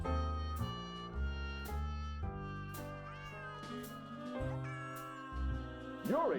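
A cat in the Nancy Drew game Secret of the Old Clock meows repeatedly over tonal game music, each cry clear and prominent against the score.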